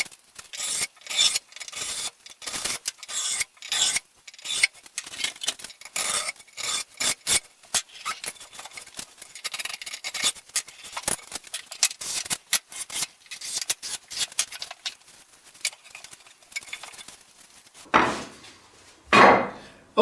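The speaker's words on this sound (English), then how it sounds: "I'm going to use a chisel now to kind of scrape away some of that glue" A chisel scrapes dried glue off a wooden bread board in quick, repeated rasping strokes, each a short dry scrape, with a couple of longer, louder scrapes near the end.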